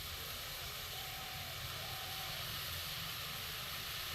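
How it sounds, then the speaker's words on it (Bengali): Potol kofta curry gravy boiling in a pan gives a steady, close, hissing bubble that runs unbroken throughout, with no voices. "জলটা চারিদিকে দেখুন ফুটে গেছে, গ্রেভিটা ফুটে গেছে।"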